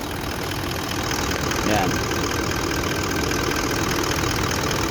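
A Toyota Land Cruiser engine idles quietly and evenly after a fault repair, a steady low rumble running throughout while someone talks over it.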